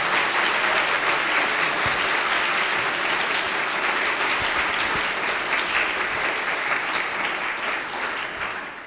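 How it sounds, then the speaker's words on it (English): An audience at a live debate about Christianity gives a big round of applause for both presenters. The dense, even clapping fills the room at a steady level and tapers off slightly at the end. "one more big round of applause for both of our presenters"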